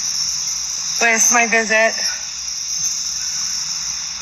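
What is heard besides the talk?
cicadas buzzing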